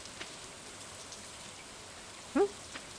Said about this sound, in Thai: วันนี้ฝนตกก็เลยไม่ต้องรดน้ำเนาะ